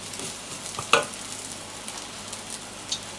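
Samphire goes into a pot of boiling water, giving a bubbling, sizzling hiss with a sharper splash and clatter near the start and faint stirring afterward.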